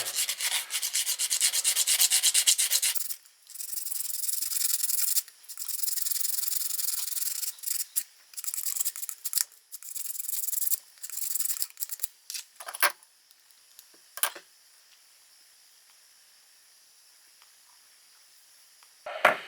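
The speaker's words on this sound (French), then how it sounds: "après plusieurs passages de ponçage" A Märklin model locomotive motor rotor is being sanded with close, dry, hissing rubbing strokes, long and steady at first and then in shorter, quieter passes with pauses.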